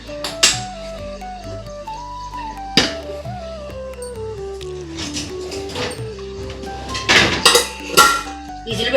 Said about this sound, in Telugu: ఈ స్టవ్ మీదకి మార్చుకుంటానండి